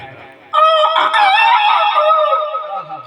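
A singer at a rural devotional bhajan gathering imitates a rooster's crow, one loud, sustained, wavering cock-a-doodle-doo call close to the mic, following a brief faint murmur.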